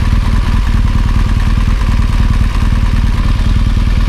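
A BMW R1200GSA boxer motorcycle engine idles close by, a loud, steady low throb with an even rapid pulse and a faint mechanical clatter.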